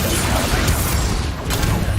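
A Confringo fire spell blasts in Hogwarts Legacy, a dense, loud burst of crackling noise that stays steady for about two seconds with no speech.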